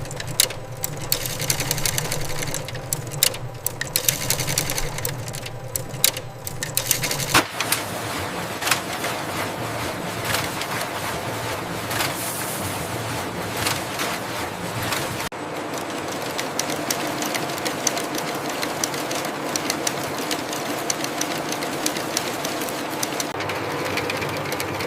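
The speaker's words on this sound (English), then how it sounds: "thousands of spindles spin continuously, transforming the raw material into usable textile fibers" Textile spinning machines in a factory whir and clatter steadily as thousands of spindles spin bamboo fibers into yarn, a dense continuous mechanical drone with faint high chirps on top.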